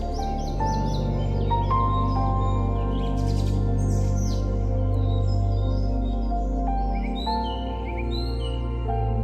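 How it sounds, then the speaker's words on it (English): Birds chirp and tweet in scattered bursts above a steady low motor hum. "the chirping of birds"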